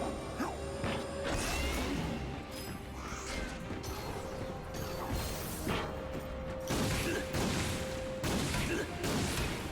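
Crates smashing in the 2016 Ratchet and Clank video game, a busy run of crashes, whacks and clattering debris with a steady mechanical hum beneath, loud and continuous throughout.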